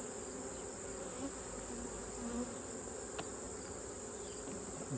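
Honeybees hum and buzz steadily inside an open hive as the frames are lifted, a dense continuous drone held close and even throughout with no talking.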